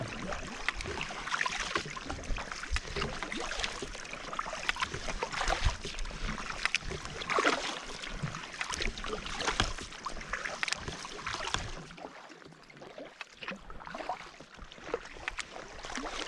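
A kayak is paddled on calm sea near the Treshnish Isles, with close, rhythmic paddle strokes splashing and water trickling off the blades, quiet and continuous throughout.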